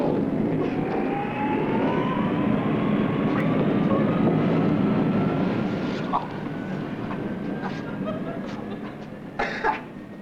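A Concorde airliner passing overhead, a steady broad jet roar with a slowly sliding whine, sustained and fairly loud throughout, with a couple of brief clatters near the end.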